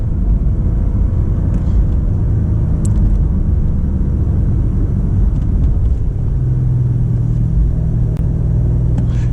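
A BMW M5 Competition LCI drives on the road, heard from inside as a steady, loud low rumble of engine and tire noise with faint clicks, no talking.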